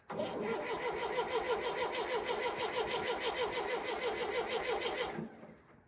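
A John Deere 400 garden tractor, revived after decades of sitting, cranking over on its starter in one steady rhythmic churn for about five seconds, loud and close, then winding down as the starter is released.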